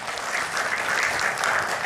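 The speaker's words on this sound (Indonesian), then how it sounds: "Tepuk tangan untuk Gus Yakut." A packed audience at a preaching gathering claps in a brief, loud, continuous round of applause, with no voices heard over it.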